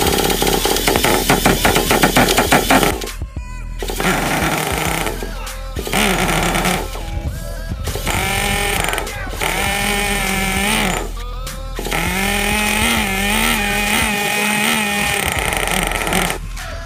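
A small high-revving Traxxas T-Maxx 2.5 nitro RC car engine buzzes and whines loudly, dropping out briefly several times between bursts of raspy, sputtering running.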